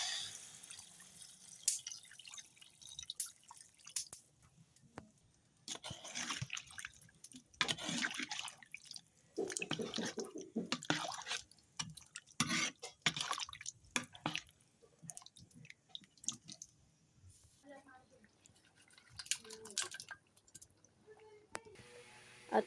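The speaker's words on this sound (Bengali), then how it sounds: "এবার পরিমাণ মতো জল অ্যাড করতে হবে।" Water being added to a cooking pot in a home kitchen, heard as soft irregular pours, drips and splashes scattered over about twenty seconds, faint and close with no talk.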